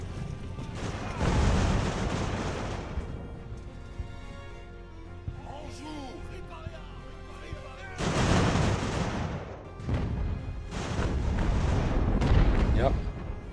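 Artillery fire in the naval-era game Ultimate Admiral: Age of Sail, with rumbling booms in several heavy bursts separated by quieter stretches of distant battle noise, under a voice talking.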